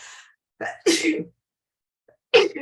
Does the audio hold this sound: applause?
no